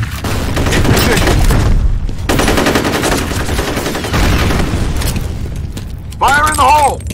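Gunfire and blasts in the first-person shooter F.E.A.R. Combat, loud sustained bursts with a heavy boom and a game voice calling out near the end.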